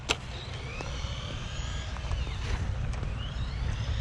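A DeeRC 001E electric RC car runs full throttle at an outdoor skatepark, its motor whining steadily with rising and falling pitch sweeps over low wind rumble, with a few sharp knocks as it bounces.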